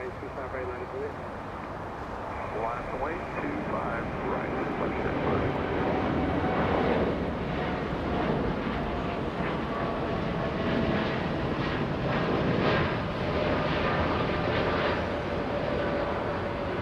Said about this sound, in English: American Dreamliner lifting off